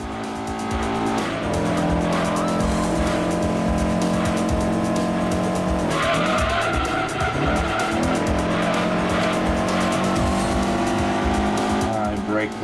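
Race car in the video game Gran Turismo 2, a historic car cup event, with the engine revving loudly and tires squealing under braking into a corner, the pitch dropping and climbing again, with a voice talking over it.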